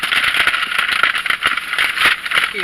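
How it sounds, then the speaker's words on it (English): A parked car's engine idles close by with a steady rattling hum and regular pulsing, and no talking over it. "And I hope you can't hear the car"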